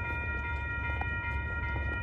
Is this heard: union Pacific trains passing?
yes